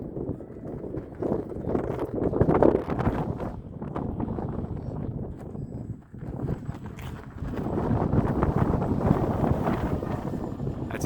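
Strong gusting wind of 25 to 30 mph buffeting the microphone outdoors while a Value Hobby Astro RC plane is flown, a loud continuous rumbling roar that surges and dips.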